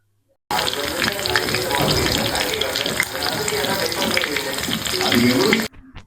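Fish pieces fry in ordinary cooking oil, a loud dense hiss and crackle that starts abruptly and holds steady for several seconds before cutting off, with no talking.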